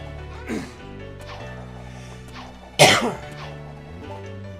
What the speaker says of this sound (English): I promise, I'm not trying to cough in you guys' ears